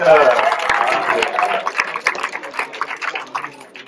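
An audience at a school slam poetry tournament claps for a poet, scattered hand claps that thin out and grow sparser over a few seconds while voices talk over them.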